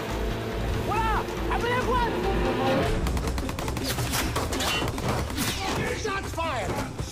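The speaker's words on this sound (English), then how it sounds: "Shots fired! Shots fired!" Gunfire in the film Captain Phillips: rapid bursts of shots crackling through a dense, loud scene with shouting voices and background noise, continuing throughout.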